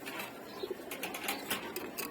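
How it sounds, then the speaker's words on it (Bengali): A female pigeon gives a few faint, low coos amid soft background noise and light scattered clicks. "এই যে এটা হচ্ছে একটা মাদি কবুতর"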